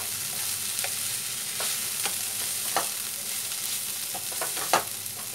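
Red spinach and peanuts stir-fry in a hot pan with a loud, continuous sizzle, broken by scattered sharp clicks and scrapes from stirring.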